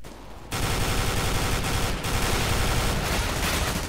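A FAMAS rifle fires in Counter-Strike: Global Offensive, loud rapid automatic bursts of gunfire that start abruptly and run almost without pause, with short gaps between bursts.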